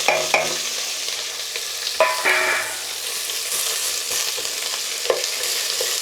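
Chopped onions and chilies hit a pan of frying ginger and garlic while chicken gizzards are being cooked, giving a loud, continuous sizzle with some clanks and scrapes of a spatula and no talking.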